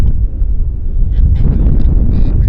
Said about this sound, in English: That's the wind moving the camera. We've got some gusts here.